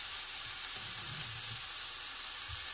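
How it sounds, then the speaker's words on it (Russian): Garlic frying together with onion in a pan gives a steady, close sizzle with soft low stirring bumps, no voices over it. "То есть это будет жариться вместе с луком."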